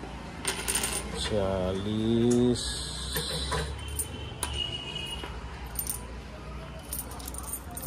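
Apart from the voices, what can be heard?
coins dropping and jingling, loose change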